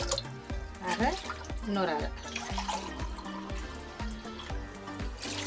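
Water poured into raw white rice in a home kitchen for cooking, a steady splashing trickle running throughout while someone speaks over it.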